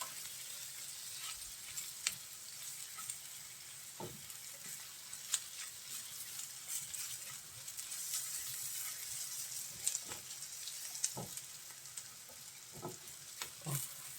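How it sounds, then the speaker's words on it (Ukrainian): Mushrooms sizzle and crackle steadily in butter in a hot pan, with occasional clinks and stirring sounds, quiet and close. "Хай смажаться грибочки наші"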